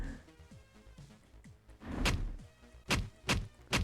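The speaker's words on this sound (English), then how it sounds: "that's the sound of Thorn charging at you" In the One Must Fall 2097 fighting game, the robot Thorn charges in with a series of thuds and sharp whooshing bursts, several loud hits in quick succession over quieter game sounds, no voices.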